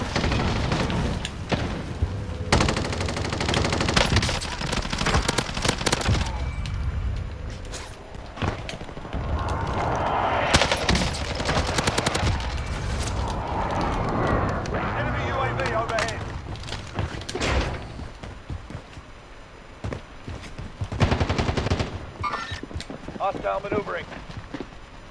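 Gunfire in the video game Call of Duty Warzone, sharp repeated shots and booms scattered through a busy battle, with players talking over the action.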